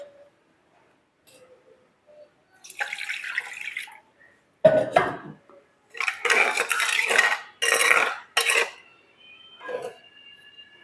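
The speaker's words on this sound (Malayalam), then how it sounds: "നമുക്ക് ഈ പാത്രം കഴുകി കുറച്ച് വെള്ളം ഒഴിക്കാം" Metal pot clatters and scrapes with splashing water in several short bursts separated by brief pauses, close by with no talking.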